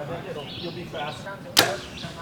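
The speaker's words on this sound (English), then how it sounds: "That's James' arrow" Arrow shot into an archery target at an outdoor Tennessee 3D archery challenge, heard as one sharp, close thwack that stands out over faint ambient noise and quiet chatter.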